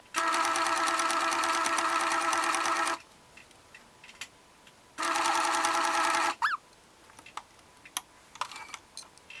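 A sewing machine stitches terry cloth for a round hand towel in two sustained bursts of rapid, even needle clatter, close up, separated by a pause with faint handling noise and no speech.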